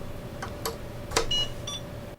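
Short electronic beeps and bloops from a Logic AU912 industrial computer during startup, a few separate tones spread over a couple of seconds with a steady faint hum underneath, no talking.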